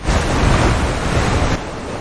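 Strong ocean waves on a beach, a loud continuous roar of surf with wind noise that eases slightly toward the end, with no voices.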